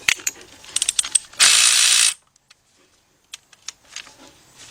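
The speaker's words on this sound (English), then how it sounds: "So take your 10mm with your cordless ratchet." Cordless ratchet loosening 10mm bolts on a GM timing chain job: a burst of rapid pawl clicking, then one loud sustained whir of the motor spinning the bolt free, followed by scattered light metallic clicks and clinks close by.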